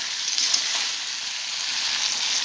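Chicken curry with potatoes sizzles steadily in a hot pan as it is stirred, a constant bright hiss with a few faint scrapes.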